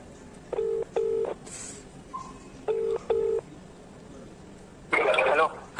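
A phone call is placed to a friend: paired electronic call tones beep twice, then twice again after a pause, followed by a brighter, louder burst of tone near the end.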